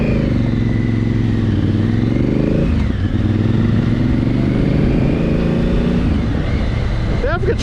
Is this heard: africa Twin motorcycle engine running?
yes